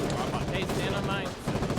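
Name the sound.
gunfire in the video game Foxhole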